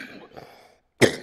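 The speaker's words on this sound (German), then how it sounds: "mein ungesunder Husten." A single sharp, close cough bursts out after a moment of quiet, following some soft breathy throat sounds.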